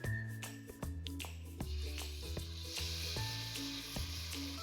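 Magur catfish pieces hitting hot oil in a karahi, giving a steady close sizzle with repeated clinks and scrapes of a utensil moving them around, no voices.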